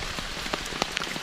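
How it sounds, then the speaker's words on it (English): Raindrops patter on the tiny leaves of small young trees along the Appalachian Trail, a close, quick irregular ticking over a steady soft hiss of rain. "Love watching little raindrops just hit the little tiny leaves of these little trees that are trying to grow."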